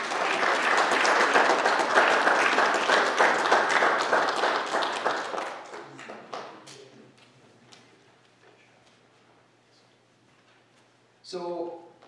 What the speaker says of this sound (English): Give a little round of applause here.